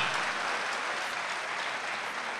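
Audience clapping at a live talk event, a thick, even burst of applause that holds steady from start to finish without any speech on top.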